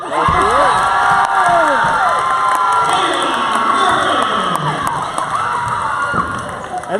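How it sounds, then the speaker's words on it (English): Loud crowd cheering and shouting at a women's college basketball game, Central Penn Lady Knights versus Penn State Scranton, with high-pitched yells and whoops rising in a sustained roar for several seconds. "and the crowd goes wild."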